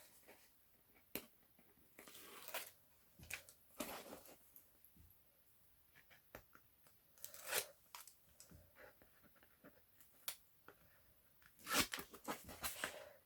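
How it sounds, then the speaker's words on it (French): Adhesive tape being peeled off paper pages in a mixed-media journal craft project, heard as a series of short, close crackling rips and tears spaced irregularly, some sharp and loud, others faint. "Voilà, on enlève les scotch."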